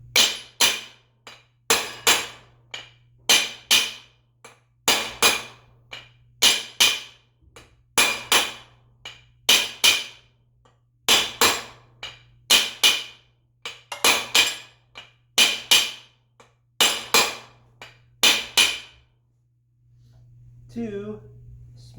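Roughly a dozen loud, ringing hammer blows strike a transmission part to drive it off, coming in quick pairs and triplets at close range over a steady low hum, with a brief scrape at the end.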